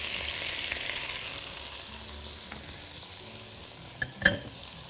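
Chicken pieces fry in a pan with hot pepper, salt and black pepper, giving a steady soft sizzle that runs throughout, with a couple of brief louder clicks or stirs near the end.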